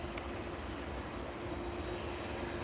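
An airliner at Edinburgh Airport gives a faint, steady distant engine rumble with a constant low tone, heard alone with no talking.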